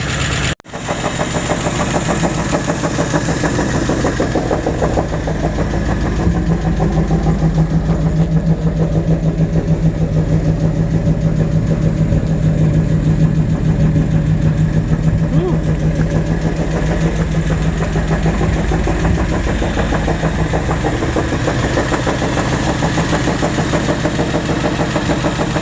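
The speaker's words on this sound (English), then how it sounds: "as you guys can see, the Camaro runs" A 1984 Chevrolet Camaro Z28 engine runs steadily at idle, a loud, close, continuous rumble with a slightly uneven lope after a brief startup surge; people talk faintly over it.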